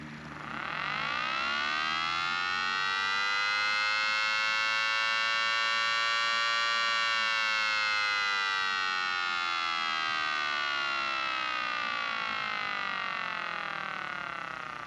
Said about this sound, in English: let you hear what each of the blower positions sound like from the siren itself